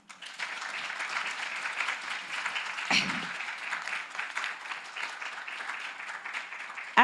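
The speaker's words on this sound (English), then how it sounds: "I want to ask you to give us a clap of hands" An audience at an evidence conference claps in a sustained round of applause, dense and steady for several seconds with a sharper burst partway through.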